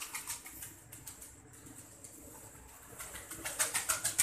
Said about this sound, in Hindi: तीन कबूतर हैं जो आज हम आपको दिखाएंगे।